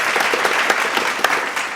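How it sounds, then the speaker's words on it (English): Applause greeting a podcast guest named Bandy in a small studio, a short burst of close, dense clapping from a few people with a couple of sharper claps standing out. "Give him a round of applause."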